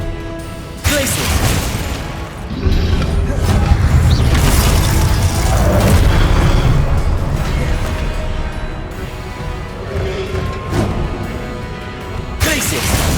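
Glacius ice spell cast in Hogwarts Legacy, set among loud, dense game combat with booming impacts, crashing and shattering bursts, and a steady roar that fades out briefly at the start and near the end.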